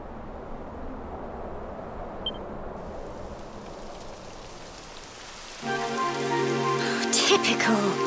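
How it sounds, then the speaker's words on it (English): Rain in the video game Dragon Quest XI, a steady hiss of falling drops that builds partway through and thickens alongside game music, with no talking heard. "It would have to go and start raining, wouldn't it?"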